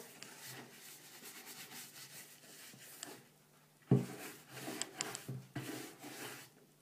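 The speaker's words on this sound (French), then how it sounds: "frottez bien le cuir pour enlever toutes les poussières" A cloth or brush rubs dust off leather shoes, heard as faint, irregular brushing strokes with a few sharper scuffs partway through, close by, with no talking.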